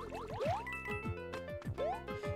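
Water bubbles in New Super Mario Bros. Wii, rising bloopy pitch sweeps that pop over a steady layered game music bed, no talk.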